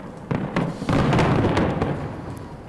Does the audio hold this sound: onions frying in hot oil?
no